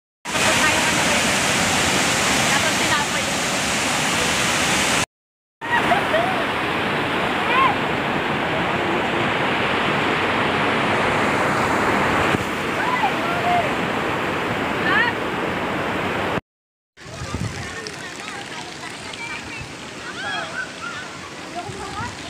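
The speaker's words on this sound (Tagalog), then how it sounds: "Sa Tungtung Falls." Tungtong Falls, a waterfall among rocks in San Jose del Monte, Bulacan, roars with loud, steady rushing water in three continuous stretches separated by brief cuts.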